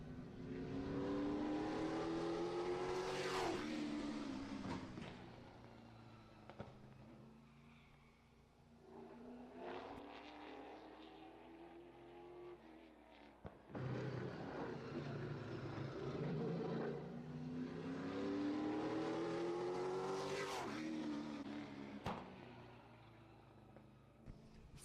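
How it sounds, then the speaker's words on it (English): Number 21 race car, driven by John Schlutt, running a qualifying lap at the Harvest Classic, its engine swelling loud as it passes, fading around the far side, then roaring by again in a second rising sweep. "Next car to hit the track will be the number 21 car."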